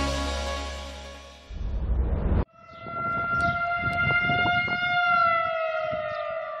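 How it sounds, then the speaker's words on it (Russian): Civil defense warning sirens sounding across Latvia during a nationwide test of the alert system: a long steady wailing siren tone, followed after a brief cut by another sustained siren with harmonic overtones, loud and continuous. "Сегодня по всей Латвии в 10 утра на 3 минуты включили сирены тревоги"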